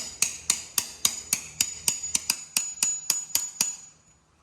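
A hammer taps a socket about a dozen times in a steady rhythm, driving out a part inside a socket packed with bread during a turbo install on a Foxbody. The metallic strikes ring bright and close, with no talk.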